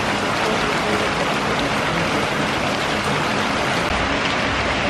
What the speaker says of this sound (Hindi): बारिश स्टार्ट हो गई